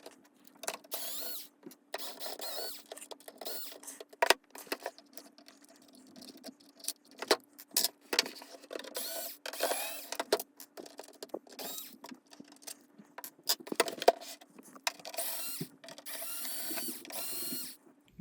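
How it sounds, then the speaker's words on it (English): Small screws are worked loose from a PS5 Slim console under repair, producing repeated close metallic clicks, ratcheting turns and little rattles in uneven bursts with brief pauses, no talking. "And now we just need to take out all of the screws, including the one that's under the security sticker there."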